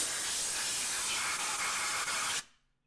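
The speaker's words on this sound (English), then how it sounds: "take a little bit of compressed air, and we're just going to clean up around" Compressed air blasts around the spark plugs of a TJ Jeep Wrangler engine. A loud, steady hiss of spray lasts about two and a half seconds, then stops abruptly, leaving near silence.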